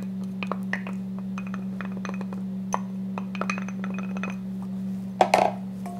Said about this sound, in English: And I'm going to stir this up.